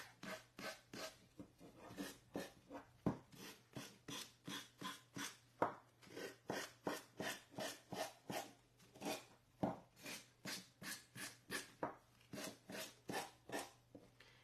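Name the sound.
sanding block on canvas edges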